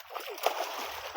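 A child bathing in a river splashes the water, making a steady, close wash of sloshing and splattering with a few sharper splashes over about a second.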